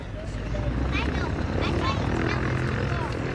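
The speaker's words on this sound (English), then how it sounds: "The airplane you just saw go out was a North American B-25 Mitchell bomber." A North American B-25 Mitchell bomber at an airshow, its engines giving a steady, loud propeller drone as it passes, with crowd noise and voices in the background.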